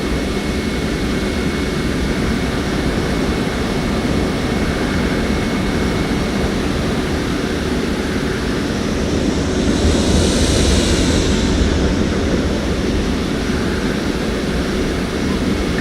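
Airliner jet engines idle and rumble steadily while taxiing to a terminal gate in a flight simulator game, a constant broad roar with a faint whine and a slight swell near the end, no speech.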